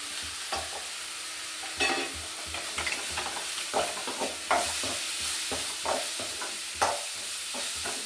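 Coconut, coriander powder and chilli powder sizzle and fry in a pan for a bendekayi curry, with a steady close hiss and frequent scraping stirs from a spoon, and no talk.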